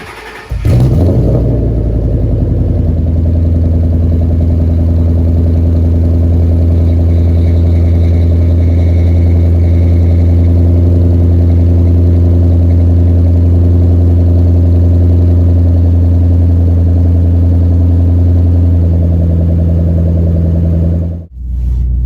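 A 2011 Shelby GT500 with a 2.9-litre Whipple supercharger and basic bolt-ons on 91 octane, heard from inside the car: loud, steady engine drone with strong low harmonics, rising after the start and holding before cutting off near the end.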